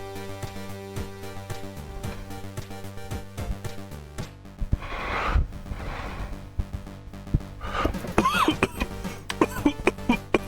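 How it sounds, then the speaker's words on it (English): Coughing bursts into a microphone during a Punch Club gameplay stream, a few rough coughs standing out above steady background game music. "Thank you for letting me cough in the microphone."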